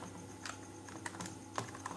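Fingers tap on a computer keyboard while typing into a browser on a Linux setup, light, irregular clicks heard up close and fairly quiet over a steady background hum.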